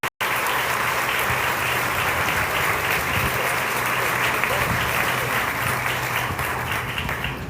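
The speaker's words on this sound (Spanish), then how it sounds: "Aplauso, por favor." Audience at a book fair inauguration applauds steadily, a loud, continuous wash of clapping from a large crowd that holds for the full stretch after a brief pause at the start.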